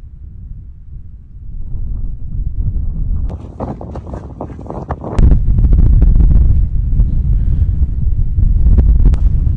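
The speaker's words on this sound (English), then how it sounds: "my goodness, the wind is ridiculous" Strong gusting wind buffets the microphone on a hillside walk along the West Highland Way toward Fort William, a loud low roar that swells sharply midway and stays heavy, with occasional rustling.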